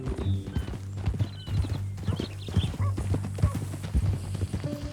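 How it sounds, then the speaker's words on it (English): Steady hoofbeats of a horse in Red Dead Redemption 2, a continuous rhythmic clip-clop at a walking pace, with speech and ambient sounds mixed in. "That new horse?"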